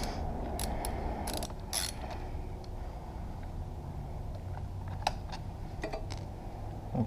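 A ratchet works loose the 12 mm caliper bolts on an SSR 125cc pitbike fork, producing quick, close clicking runs of the pawl in short bursts over a low background hum, with no speech.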